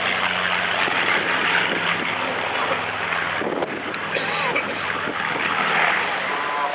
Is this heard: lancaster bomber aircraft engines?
yes